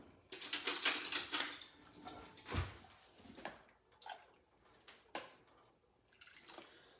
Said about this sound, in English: I'm going to stir it up just a little bit.